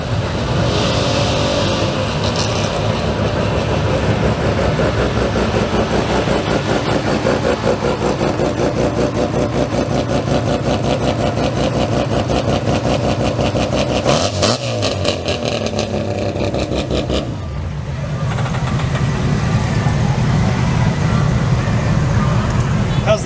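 A Toyota Prius engine runs steadily up close with a rough, buzzing drone that dips briefly and then settles back to a constant hum.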